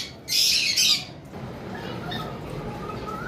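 Caged lovebirds and cockatiels give loud, harsh squawks in two close bursts, then softer chirps over a steady background hum.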